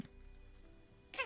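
Cat sounds from the video game Red Wilds: after a quiet stretch of low ambient hum, a sharp, loud cat cry bursts out near the end, close and brief.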